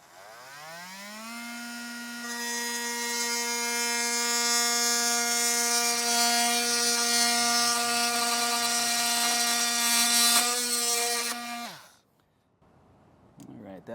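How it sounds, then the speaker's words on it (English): An oscillating multi-tool cutting to trim a wall opening on a 2017 Jayco RV, a steady high-pitched buzzing whine that spins up, holds loud and close for about ten seconds, then stops abruptly, followed by faint handling noise. "I'm just gonna use my multi-tool and just be super careful"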